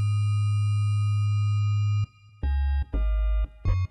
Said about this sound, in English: only disharmonic sine waves.